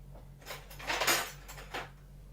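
Soft clinks and rattles of metal utensils, with a brief sliding knock, close by and fairly quiet over a steady low hum.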